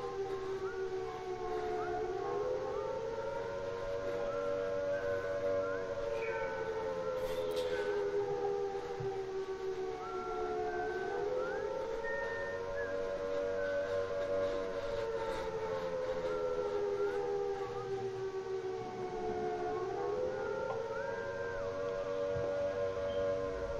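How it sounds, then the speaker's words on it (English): A character in the game Midnight Tales whistles a slow, wavering tune that rises and falls in long repeating phrases, steady and clear against a low background hum, with no talking. "with this guy whistling all happy while he dragged me away"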